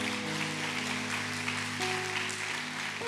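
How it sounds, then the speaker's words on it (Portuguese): A church congregation applauds steadily during a Sunday family worship service, dense clapping filling the room evenly throughout, with sustained organ or keyboard notes ringing underneath. "Aplauda a palavra do Senhor em nome de Jesus"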